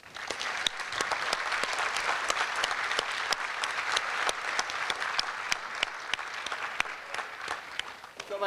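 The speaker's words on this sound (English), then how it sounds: "Please join me in a round of applause." A hall full of people applauds at a JROTC awards ceremony, steady dense clapping that holds at an even level for several seconds with scattered sharper claps standing out.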